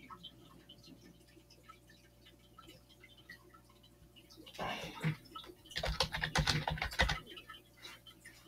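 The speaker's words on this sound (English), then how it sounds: "let's type that in" Computer keyboard typing in two bursts during the second half, quick clustered key clicks with a short pause between, fairly close and moderately loud over a quiet room hum.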